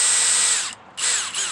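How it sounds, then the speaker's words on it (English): A DeWalt DCD701 12V 3/8-inch cordless drill driver whines loudly up close, running in two bursts with a brief drop in speed between them, motor pitch sliding as it spins up and down. "it's a 3/8-inch drill driver, DCD 701"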